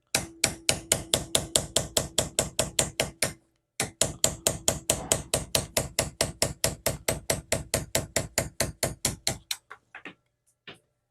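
A hammer strikes a punch to drift the factory rear sight off a Springfield XDS pistol clamped in a low bench vise, with dozens of rapid, steady, sharp close taps in two bursts, ending in a few lighter hits.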